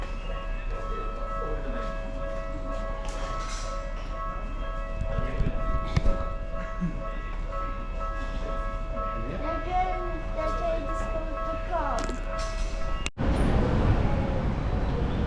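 A train at Gotanda station in Tokyo rumbles steadily with sustained tonal hums and a sharp change near the end, while voices murmur over the platform noise.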